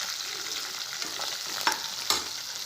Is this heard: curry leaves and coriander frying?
yes